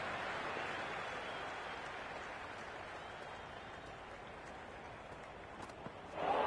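A stadium crowd in the Cricket 26 video game roars steadily and loudly throughout, a dense wash of cheering that swells slightly louder near the end.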